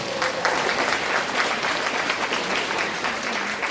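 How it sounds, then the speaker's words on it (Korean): An audience at an outdoor concert-style talk event at a park amphitheatre in Miryang gives steady, moderately distant applause that continues evenly throughout. "박수 한번 주십시오."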